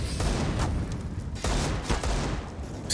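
Rapid bursts of gunfire in a CS:GO match on the Nuke map, several sharp shots landing one after another, loud and close and ending in a headshot, with faint commentary underneath.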